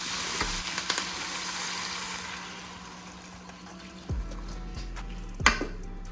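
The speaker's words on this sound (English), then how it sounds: "Now we're gonna add our beef broth" Beef broth poured into a pot of browned jerk oxtails, a steady sizzle with sloshing liquid and a few sharp clanks of a carton or spoon against the pot, close and continuous.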